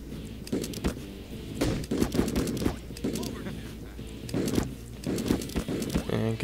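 Gunfire in the game Dungeon Fighter Online, repeated sharp shots in irregular bursts mixed with melee hits and game effects, with someone talking over the action throughout.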